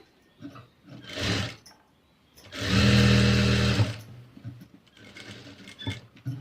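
Sewing machine stitching a princess cut blouse with canvas lining, running in two bursts, a short run and then a longer, louder steady whirr of about a second, with quiet handling between.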